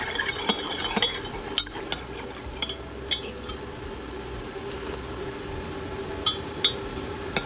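A spoon stirs a drink in a cup, giving light clinks and taps against the sides at irregular intervals over a steady background hiss, close and fairly quiet.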